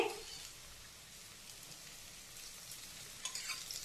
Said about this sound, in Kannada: ಇದು ಚೆನ್ನಾಗಿ ಎಣ್ಣೆಯಲ್ಲಿ ಸ್ವಲ್ಪ ಬೇಯಬೇಕು